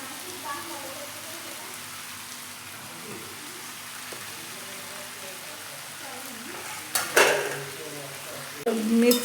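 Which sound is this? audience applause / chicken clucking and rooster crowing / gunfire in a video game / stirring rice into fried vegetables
stirring rice into fried vegetables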